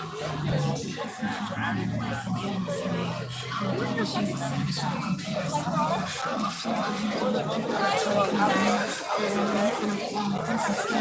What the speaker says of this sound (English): And they're looking at this peaceful crowd occupying a portion of our community.